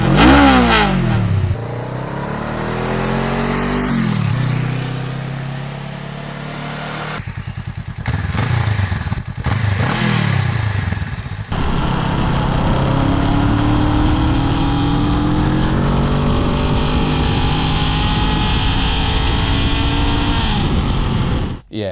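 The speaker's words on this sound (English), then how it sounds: "let's hear what the Rebel sounds like stock in a few different situations" A Honda Rebel 500 motorcycle with its stock exhaust idles, then revs and accelerates through rising and falling passes before settling into a steady, loud, slightly tractor-like drone, with no talking.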